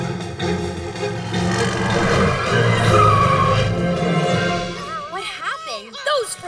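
The PJ Masks cat car, a cartoon vehicle, roars off loudly with rising engine noise and tire squeal, followed by whooshing sweeps at the end, under music.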